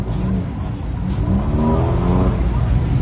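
Several Subaru cars from a car club pull away one after another at a nighttime car meet, with loud engine roar and rising revs rumbling steadily close by. Voices can be heard faintly beneath the engines.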